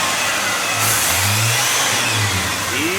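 Budget turbocharged 250 engine revving in uneven bursts as a child works the gas pedal, loud and close with a steady running drone underneath and rises and falls in pitch.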